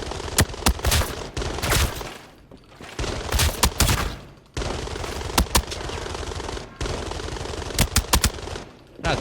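An assault rifle is hip-fired in Arena Breakout in loud bursts of rapid automatic shots. The volleys are separated by short pauses.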